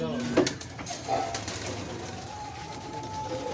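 Giribaj pigeons coo in a loft, with a few soft, low coos and calls near the start over a quiet background, while someone speaks faintly nearby.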